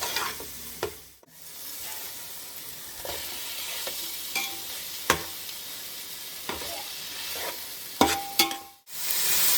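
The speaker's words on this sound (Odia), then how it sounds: "ପୋଦିନା ଆମକୁ 1-2 ମିନିଟ୍ ଭାଜିବାକୁ ପଡ଼ିବ।" Mint leaves fry in a pan for mutton biryani, a steady close sizzle running throughout, broken by regular scraping and clinking of a spoon as the leaves are stirred.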